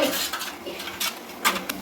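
A plate-like metal vessel clinks and scrapes as it is handled and greased with ghee for barfi, with several sharp metallic taps and rattles close by.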